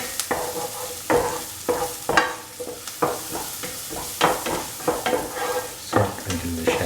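Shallots and other ingredients for a curried pumpkin shrimp stew sautéing in a pan, a loud close sizzle punctuated by rhythmic spatula knocks and scrapes about every half second.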